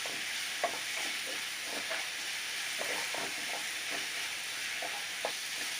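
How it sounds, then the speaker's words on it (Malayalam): Onions with herbs and ginger-garlic paste sauté in a pan for a paneer biryani, with a soft, even sizzle and repeated light stirring scrapes at a steady pace. "നന്നായി വഴറ്റിയെടുക്കാം എല്ലാം കൂടെ."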